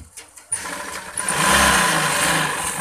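An electric sewing machine stitches palazzo trouser panels together: after a few quiet handling sounds it whirs up and runs steadily, its motor humming loud and close for about two seconds.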